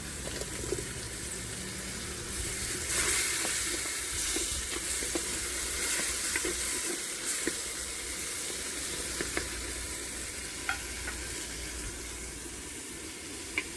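Ground tomato frying with softened onions in a pan for a Tamil-style chicken curry: a steady, close sizzle runs throughout with faint stirring clicks, and no one speaks.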